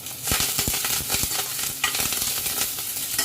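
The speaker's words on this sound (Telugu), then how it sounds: "ఆవాలు చూసారా చిటపటమంటున్నాయి." Mustard seeds and curry leaves crackle in hot oil for a South Indian sambar tempering, a steady close sizzle broken by quick popping bursts and stirring, with no talk.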